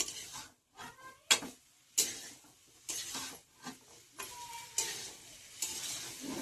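Chana masala with a splash of water is stirred in a pan, heard as quiet, intermittent bursts of scraping and soft sizzle. Short pauses fall between the strokes, and there is no talking.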